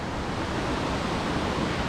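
A mountain stream rushes along the Chimney Tops trail in Great Smoky Mountains National Park, giving a steady, close hiss of flowing water with no pauses or voices.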